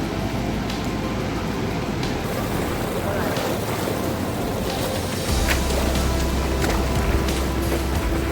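Sea waves at Harihareshwar beach on the Konkan coast, a steady broadband wash of surf with wind buffeting the microphone, continuous and fairly loud throughout, with a heavier low rumble joining midway.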